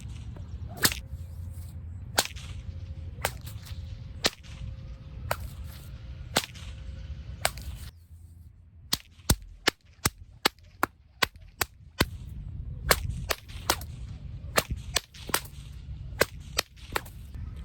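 A whip cracks again and again, each crack a sharp snap. The cracks come in steady runs, the third taken as a sidearm flick, with a faint background hum.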